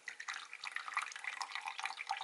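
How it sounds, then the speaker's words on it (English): Faint, soft trickling and splashing of an ounce of water poured into a cup, a continuous light gurgle with no voices. "Now I'm going to add an ounce of water to each of them"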